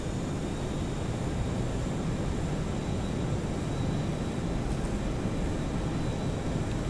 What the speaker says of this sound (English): I don't know if you guys can hear me over the engines.